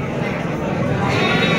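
Garut sheep at a busy livestock market, bleating amid dense crowd chatter and steady background noise from music and people.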